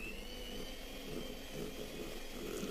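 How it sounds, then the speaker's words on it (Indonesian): An electric hand mixer whips diplomat cream, made from pastry cream and whipped cream, at low to medium speed, a faint, steady motor whir that holds without a break. "ini kita mixer aja dengan kecepatan rendah aja atau kecepatan sedang sampai tercampur rata"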